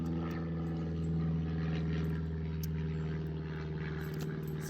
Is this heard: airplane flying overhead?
yes